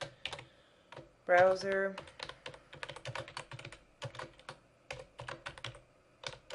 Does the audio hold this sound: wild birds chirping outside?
no